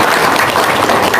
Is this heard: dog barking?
no